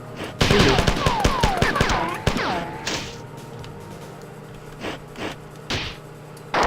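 Enemies firing in the sci-fi shooter Marathon, a rapid cluster of sharp shots and whooshing projectile sweeps up front, followed by a few scattered, fainter bursts and impacts against quieter game ambience.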